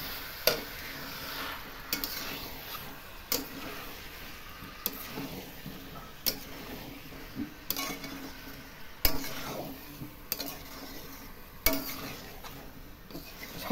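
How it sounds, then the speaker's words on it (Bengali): A metal spatula clangs against a cooking pan during stir-frying, sharp distinct strikes roughly every second and a half over a soft sizzle, close and alone. "দেখ তোর খুন্তিতে আওয়াজ করো কেন, অসহ্য লাগে।"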